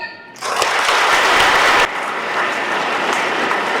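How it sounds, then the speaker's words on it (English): Audience applause at an event honouring students who topped the IIT JEE Mains exam, starting with a quieter lead-in before a loud burst of dense clapping from a large crowd that drops somewhat but continues steadily. "I would like you to applaud them."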